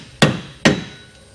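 A hammer strikes a front wheel hub on a Nissan 350Z or Infiniti G35 twice in quick succession, two sharp, close metallic knocks that each ring out briefly.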